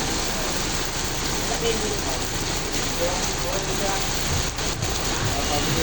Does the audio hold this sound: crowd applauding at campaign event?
no